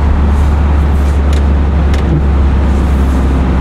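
A bus driving through snowy weather, its engine and road noise a loud, steady rumble heard from inside the cabin, with a couple of faint brief clicks.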